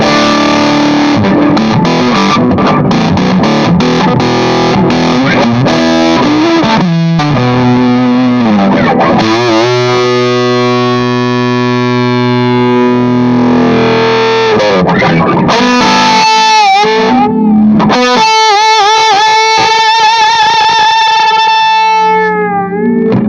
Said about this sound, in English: And here's adding overdrive.